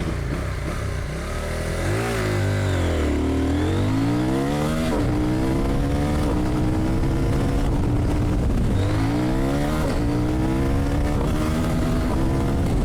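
A CFMOTO 800NK motorcycle engine revs hard through repeated rising accelerations, each climbing pitch flattening out at the rev limiter before dropping on a gear change, loud and continuous with wind noise.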